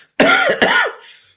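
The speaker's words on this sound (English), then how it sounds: "I got a tickly cough saying that." Two sharp, loud coughs in quick succession, close by, the second trailing off into a softer breath.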